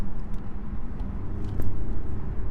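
BMW G20 330i engine in Sport Plus mode crawling in slow evening traffic, a steady low engine drone heard from inside the car with windows up, loud and continuous.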